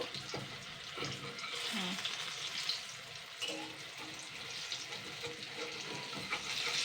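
Chana dal fritters fry in oil with a soft, steady bubbling sizzle, faint and close, with occasional small pops and stirring noises throughout.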